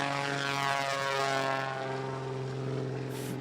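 A 600-plus horsepower propeller airplane weighing about 3,000 pounds takes off at an EAA takeoff and landing competition. Its engine makes a loud, steady drone with a strong harmonic buzz that holds throughout.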